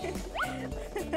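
A small toy-like puppy gives a short, high yippy bark amid a busy doll-play scene, brief and close with music or chatter underneath.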